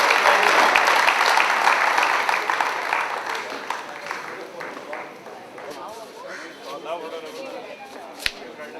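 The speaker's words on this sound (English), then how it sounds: "Maybe a round of applause for our director for hosting the lunch." A room full of people at a class reunion lunch applauds, loud dense clapping at first that thins and fades to scattered claps, with voices talking over the tail.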